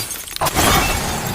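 Glass shatters as a kidnapper is struck with a drinking glass and shoved into a window, a film sound effect: a sudden loud crash bursts in partway through, then spreading crackle of falling shards continues to the end.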